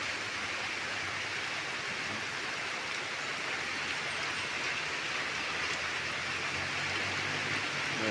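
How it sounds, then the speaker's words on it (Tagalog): Heavy rain pours in a steady, unbroken broadband hiss that stays loud and even throughout, with no voices or other distinct sounds over it. "Napakalakas ng ulan guys."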